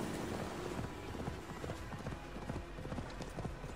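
Steady clip-clop of horse hooves in a video game (Assassin's Creed Valhalla) at a brisk, even pace, fairly close, over a low background hum.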